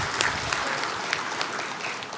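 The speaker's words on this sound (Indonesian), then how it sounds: "Tepuk tangan dulu untuk semua penerima penghargaan." An audience applauds award recipients at a national Wana Lestari forestry award ceremony, a steady wash of clapping from many hands with a few sharper claps standing out.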